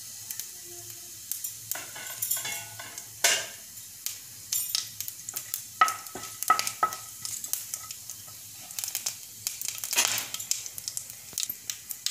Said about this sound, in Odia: ତେଲ ଗରମ ହୋଇଗଲେ ଗୋଟା ଜିରା, ଖଣ୍ଡ ମସଲା, ତେଜପତ୍ର ଦେବା